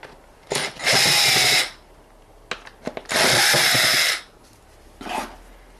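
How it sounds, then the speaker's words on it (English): A power driver undoes Phillips screws on a Peugeot air filter housing in three loud whirring bursts separated by small clicks and handling noises, with no speech. "We can then undo these Phillips screws here."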